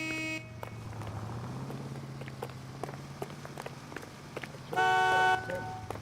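A car horn honks in the video game L.A. Noire, a loud sustained blast near the end, heard over steady engine rumble, street ambience and footsteps.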